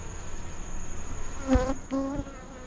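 Honey bees swarm at an open beehive during an early October inspection, making a continuous close buzz with a few louder individual bees droning past the listener.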